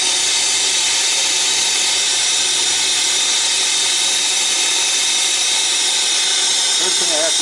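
A brazing torch hisses steadily and loudly up close while heating a compressor pipe on a refrigeration system with a restricted drier filter. The roar stays constant throughout, with a brief clatter near the end.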